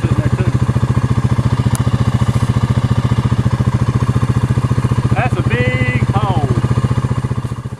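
A four-wheeler engine idles steadily and loudly at close range with a dense rhythmic chug throughout, while people talk over it during a hog-hoisting job after a wild hog hunt.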